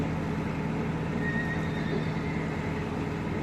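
A horse neighs by a canal while a narrowboat approaches moorings near Brewood, its whinny rising over steady engine rumble and water noise, fairly near and drawn out across the clip.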